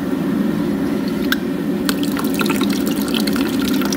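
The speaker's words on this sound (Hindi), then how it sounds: "अभी पानी गर्म आ रहा, धुआं भी निकल रहा है" Hot, steaming water runs from a tap in a continuous loud splashing stream, with a few sharp drips and clicks breaking through, and no talking over it.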